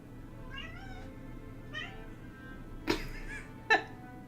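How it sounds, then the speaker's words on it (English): A cat in the video game Dragon Age 2 gives several faint, soft meows spread across the clip, followed by a couple of brief sharper sounds, with no talk over it. "cat sneaking up on you."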